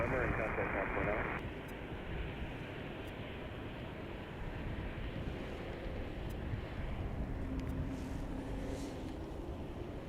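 A Swiss airliner, Flight 8, arrives at Chicago O'Hare International Airport after a long flight from Switzerland, its steady broadband jet roar carrying throughout, with wind buffeting the microphone and a brief louder burst at the start.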